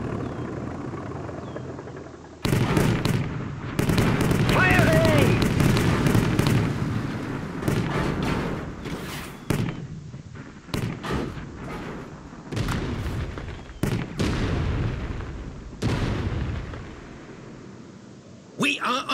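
Soldiers firing weapons in the World War Armies game, heard as repeated sharp bursts and booms scattered irregularly across the scene, some loud and close, others lighter, with voiced commands in between.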